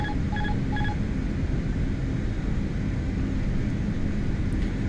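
Autopilot disconnect alert in a CRJ airliner cockpit, three short repeated tones early on over a loud, steady roar of engine and cockpit noise.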